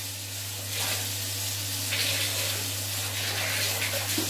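Water pours steadily from a shower, a continuous broadband hiss with a low steady hum underneath, moderately loud and close, with no talking.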